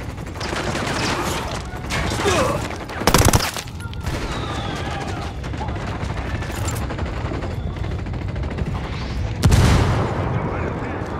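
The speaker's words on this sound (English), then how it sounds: "Open fire." Gunfire rattles in Ghost Recon Wildlands: dense bursts of rifle and machine-gun shots crackle steadily, with two louder sharp cracks standing out, while voices talk over the firefight.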